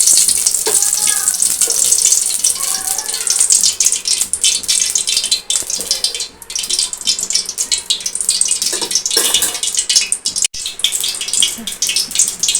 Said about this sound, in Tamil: சட்டி நல்லா சூடாயிருச்சு எண்ணெய் ஊற்றிக்கிடலாம்